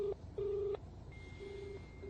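A telephone call to the E ward war room at a Mumbai hospital goes unanswered: a few steady electronic tones sound close on the handset line, with short gaps between them and no voice picking up.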